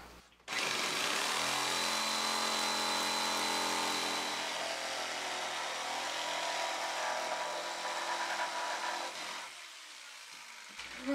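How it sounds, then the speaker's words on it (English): A jigsaw cuts wood for a chicken coop, starting abruptly and running as a loud, steady, close motor whine with a slight shift in pitch midway, then cutting off near the end; no talk. "Just going to use a jigsaw."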